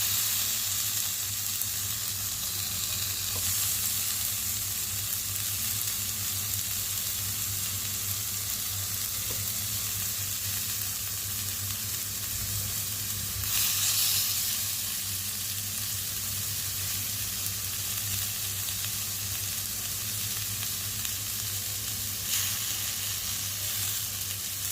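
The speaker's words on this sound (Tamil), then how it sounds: "நம்ம மிக்ஸ் பண்ண மீன் எடுத்து ஒவ்வொன்றா இந்த மாதிரி நம்ம தவாவில் வச்சுக்கலாம்" Marinated fish pieces frying on an oiled tawa, a steady, even sizzle that carries on without a break, close and moderately loud.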